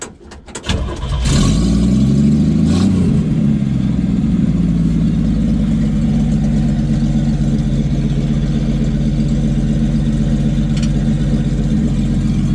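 A Willys truck engine cranks and catches, then runs loud and steady with a constant close-up rumble for the rest of the clip.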